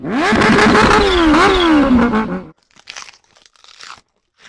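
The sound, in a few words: Kawasaki Ninja H2R motorcycle revving with turbo-like whine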